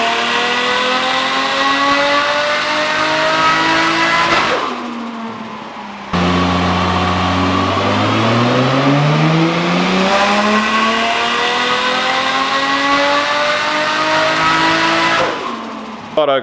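Tuned Nissan RB30 turbo engine in an R31 with a big cam, revving hard under boost on a tuning session, two long loud pulls that rise in pitch and then cut off abruptly.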